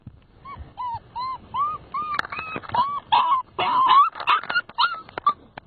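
A puppy whimpers and yelps in a rapid series of high, squeaky cries, close and insistent, with little else around it.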